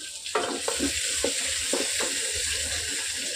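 Fenugreek seeds frying in oil for rasam produce a dense, close sizzle, broken by a few soft scrapes and taps as they are stirred in the pan.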